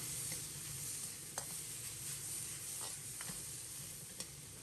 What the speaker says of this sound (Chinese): 继续开大火翻炒均匀。